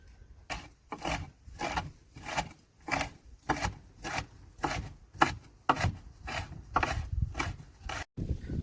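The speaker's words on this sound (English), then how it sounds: "So we're going to chop all this up." Plant material with a bit of tomato is chopped for fermented plant juice, a steady series of about fourteen close, rhythmic knife strikes with soft rustling between them.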